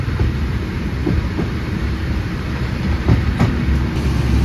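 An ALe 642 electric multiple unit train runs on rails, giving a steady loud rumble with faint rhythmic wheel clicks throughout, heard from onboard with no talk.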